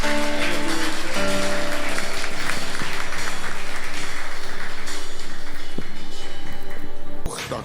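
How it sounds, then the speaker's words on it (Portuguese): Church congregation giving sustained loud applause, a thick continuous patter of many hands with background music underneath, cutting off abruptly near the end. "Você pode aplaudir ao Senhor."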